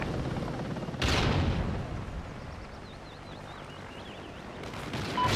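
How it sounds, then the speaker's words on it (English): A friendly helicopter arrives in the video game Call of Duty: Ghosts, a steady rotor rumble under distant explosion-like bursts and a brief electronic warble. "Friendly chopper inbound."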